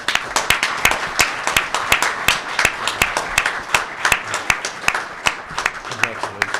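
An audience at a school board meeting claps for a student in a short burst of sharp, separate handclaps, fairly close and steady, with no talking over it.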